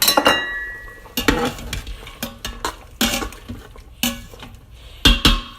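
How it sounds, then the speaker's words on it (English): A spoon scrapes and clanks against a pot while badi is stirred into an aloo mixture, in a rhythm of irregular knocks and scrapes with no talk. "And now, finally, I am going to add the badi. And I'm going to stir that in."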